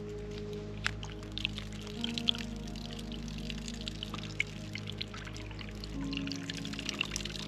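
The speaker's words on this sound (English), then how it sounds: "Sure you drain out your shower head." Water draining and dripping out of an RV shower head, a soft trickle with scattered drips and splashes over a low steady hum, no talking.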